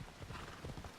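Horse hooves clip-clop steadily in Assassin's Creed Odyssey on a mountain path near the sanctuary at Delphi, a brief run of quick, fairly quiet hoofbeats with no talking.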